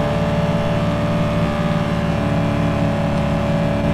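An Audi Q7 engine in the Car Sale Simulator video game, a loud steady drone of a car at high speed, holding a constant pitch with no talk over it.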